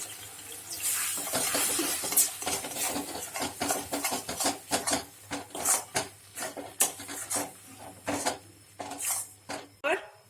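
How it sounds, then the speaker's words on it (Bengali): Utensils scrape and clink against a metal wok in quick, irregular strokes as rice flour is stirred and mixed into water nearby. "ভালো করে এই সমস্ত উপকরণগুলো জলটার মধ্যে ভালো করে মিশিয়ে নেবে"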